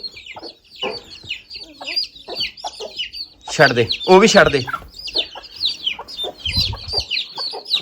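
Chickens and chicks cluck and chirp busily nearby, with a burst of louder squawking in the middle, while a person talks briefly over them.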